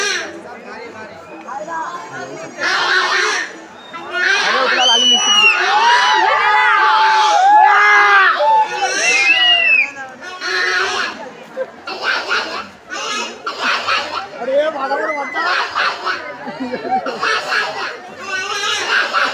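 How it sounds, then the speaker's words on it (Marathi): Dense festival crowd at a temple during the Mahad Chhabina festival, a loud, continuous mass of chatter, shouts and occasional shrill cries close around the listener, rising and falling in waves. "जाम पब्लिक आहे, जाम गर्दी आहे।"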